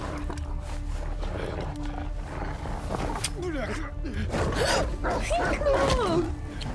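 A low, rough dog growl rumbles through a S.T.A.L.K.E.R. 2 game scene, with game sound effects and swooping tones rising over a steady background.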